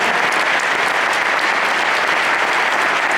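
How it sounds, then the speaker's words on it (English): Loud, dense audience applause fills a touchdown club awards banquet, a steady wash of many hands clapping without pause from start to finish. "Let's give them a round of applause as well."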